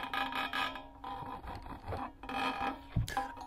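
A springy wound-up metal part being rubbed for sound design, giving faint continuous raspy scraping and creaking strokes in short repeated passes, close and quiet with no talk.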